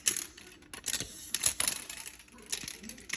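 A Stanley tape measure rattles and clicks as it is handled and pulled out, with a string of sharp ticking and metallic snaps, close and fairly quiet.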